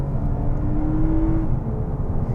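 2020 Toyota Avalon TRD with catback exhaust under full throttle, a muffled, insulated engine drone rising steadily in pitch as the car accelerates, heard from inside the cabin with no voices.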